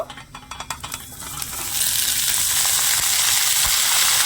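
Cauliflower pieces tipped into a pan of hot oil with lightly fried ginger, first a few scraping stirs, then a loud, steady sizzle that swells and holds close up, with no talking.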